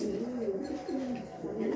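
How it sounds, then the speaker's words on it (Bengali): An imported foreign pigeon cooing up close, with a few soft, low, rolling coos over faint background noise. "একটা সরাসরি বাইরের বিদেশি কবুতর। হ্যাঁ, এই দেখেন বিদেশি কবুতর।"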